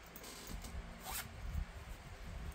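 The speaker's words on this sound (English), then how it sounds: "There's a little zipper bag." A small zipper bag from a Halloween mystery box is unzipped in one quick, bright rasp in the middle, with soft handling rustles before and after, close and fairly quiet.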